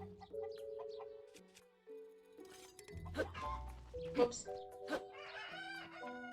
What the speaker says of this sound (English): Almost chopped the chicken up.